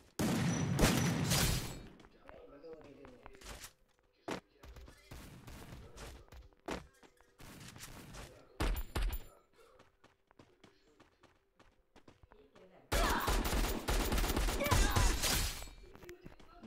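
An M10 gun fires in bursts in the Free Fire Craftland video game, with loud rapid volleys at the start and end and scattered shorter bursts between them. Footstep-like thuds and quiet gaps come in between.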